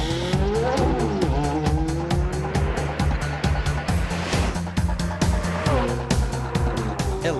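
Electric car and a Ferrari launching side by side down a quarter-mile drag strip, loud engine and motor roar with rising whine and rapid rhythmic pulsing, tires squealing, continuous and close throughout.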